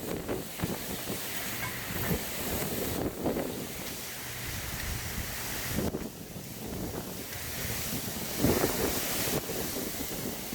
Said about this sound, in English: Whoa, that's about a 50-mile-an-hour wind gust